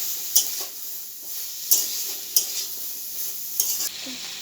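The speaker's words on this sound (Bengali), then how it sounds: "এবার ভালোভাবে মশলাটাকে সবজির সঙ্গে কষিয়ে নেব" Ginger, green chili, turmeric and Kashmiri chili powder being sautéed with vegetables in a pan for a drumstick curry: a low steady sizzle broken by crisp spatula scrapes about every second, close and without voices.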